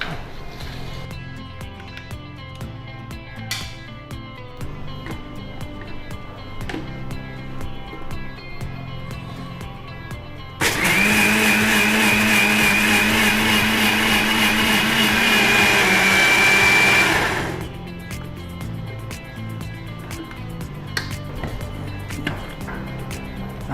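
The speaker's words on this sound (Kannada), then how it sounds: "ಈಗ ಖಾಲಿ ರಾಗಿಯನ್ನು ಮಿಕ್ಸ್ ಮಾಡಬೇಕು" A kitchen mixer grinder whirs loudly for about seven seconds as it blends dry ragi (finger millet) for ragi juice, starting abruptly and cutting off, with quieter kitchen sounds before and after.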